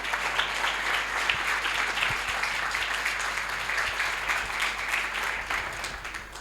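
A church congregation claps together in sustained, dense applause, an even wash of hand claps lasting several seconds and fading slightly at the end.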